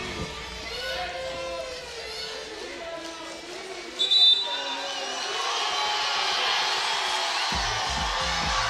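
Crowd at a FIBA 3x3 basketball World Tour finals in Marseille, screaming and cheering steadily in the background while a commentator talks over it, with a short whistle-like burst midway.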